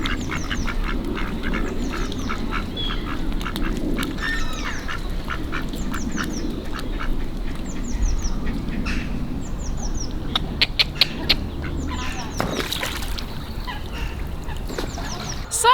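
Ducks and geese on a lake, repeated quacks and honks scattered across the clip over a constant background rumble, moderately near, with no one talking.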